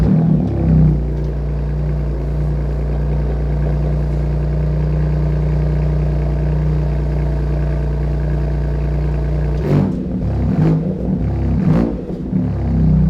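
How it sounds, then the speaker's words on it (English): A BMW M2 Competition with a Remus exhaust sits on a cold idle at about 2000 RPM, a loud steady low drone with a couple of short revs near the end. "Nice cold start coming up."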